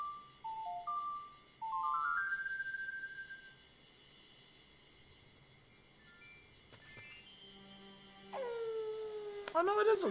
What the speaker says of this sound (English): And you can tell that it's turned to nighttime when you hear the wolf howling.